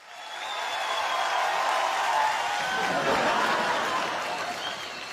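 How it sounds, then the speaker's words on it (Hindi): A large audience at an award show applauds in a broad, continuous wash of clapping with a murmur of cheering, swelling and then slowly fading. "तालियां"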